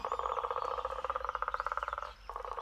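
A frog croaks in a fast, even pulsing trill, close and fairly quiet, pausing briefly near the end before starting again; no voices.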